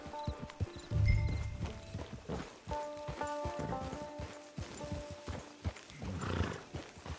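A horse in Red Dead Online clip-clops with rhythmic hoofbeats, close and fairly loud, and gives a snorting whinny, with short musical tones sounding alongside.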